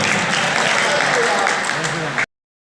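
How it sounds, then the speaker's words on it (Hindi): Audience applause at a book release and honoring ceremony, a dense steady wash of clapping with crowd voices mixed in, loud and sustained before cutting off abruptly. "तालियां हो जाए"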